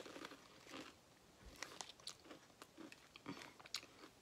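Doritos Flavor Shots chips are bitten and chewed up close, producing quiet, irregular crunches and crackly chewing sounds.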